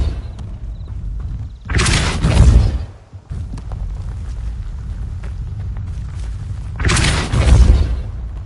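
Depulso spell cast in Hogwarts Legacy, two heavy whooshing booms with deep thuds, a few seconds apart, over a steady rumbling game ambience.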